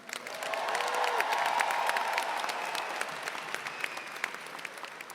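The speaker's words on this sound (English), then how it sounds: "Let's give a round of applause to the West Hall High School drumline from Oakwood," A large crowd at a 2018 Strayer University commencement in Atlanta applauds the West Hall High School drumline, a steady wash of clapping that swells and then tapers off over about five seconds in a big hall.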